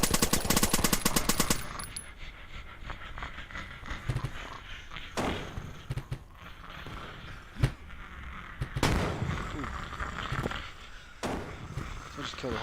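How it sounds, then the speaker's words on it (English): Rapid automatic gunfire cutting down zombies in an indie video game, a fast stuttering burst at the start followed by scattered single shots and thuds, with a voice talking over much of it. "We could take our weapon out and start shooting them."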